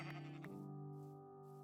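A black sheep in the Minecraft video game bleats: one quiet, wavering, nasal call that fades into a sustained tone, heard alone.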